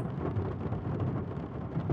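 Steady heavy rain with low thunder rumbling continuously in a horror video game storm, a dense, unbroken wash of downpour at moderate loudness with no voices.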